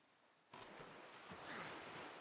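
Ocean surf and wind in Zelda Wind Waker, quiet at first, then a soft whooshing swell of waves rising abruptly and continuing as a faint, steady wash.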